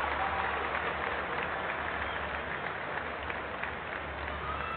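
A stadium crowd at a football match applauds a player's effort: a dense, steady wash of clapping and cheering, fairly distant and continuous, with an announcer's voice faintly beneath it.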